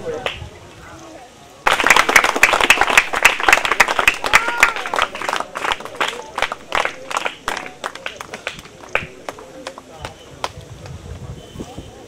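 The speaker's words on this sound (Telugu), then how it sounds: "గట్టిగా చప్పట్లతో" Loud, dense clapping from a crowd at a birthday celebration for MLA Bajireddy Govardhan breaks out suddenly after a quiet moment, with sharp claps that thin out and grow more scattered toward the end.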